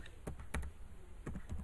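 Keys clack on a computer keyboard as a command is typed into a Windows 10 command prompt window, several quick distinct taps in short bursts at close range with no talking.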